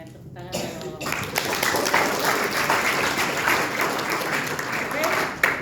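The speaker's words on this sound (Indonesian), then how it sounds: "Ya kan, tepuk tangan dong." Indoor audience applause, dense steady clapping from a crowd of listeners at a gathering, loud and sustained for several seconds after a brief pause, with a few voices mixed in.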